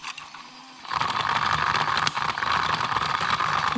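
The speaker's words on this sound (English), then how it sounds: "This clicking sounds really alarming." A small beauty blender washing machine starts up and runs, a steady whirring hum with rapid mechanical clicking throughout, close and fairly loud.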